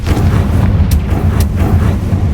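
A loud Confringo blasting spell explosion in the video game Hogwarts Legacy produces a sustained, booming low rumble, with a couple of sharp crackling bursts riding on top.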